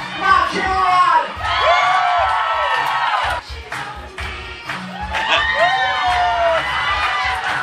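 A crowd at a retro game show night roars with cheers, whoops and shouts in two big swells, loud and close, with a host's voice briefly cutting in.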